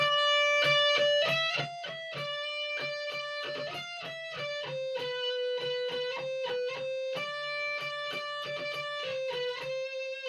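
A bright, sustained electric lead guitar plays a solo, notes sliding and bending with steady, ringing tone and a quick rhythmic pattern of picked attacks.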